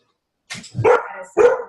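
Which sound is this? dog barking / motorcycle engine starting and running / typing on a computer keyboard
dog barking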